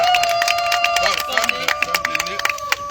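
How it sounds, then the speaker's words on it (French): Congregation at a church baptism service clapping rhythmically, dense percussive claps over a sustained musical tone and crowd babble, close and lively. "Acclamons le Seigneur."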